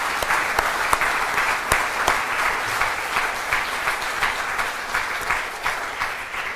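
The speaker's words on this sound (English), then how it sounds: "I'd like you all to say thank you to David with a warm round of applause" Warm, steady applause from a seated audience thanking presenter David Redhill after a marketing lecture, a continuous wash of many hands clapping at even volume with a few sharper claps near the front.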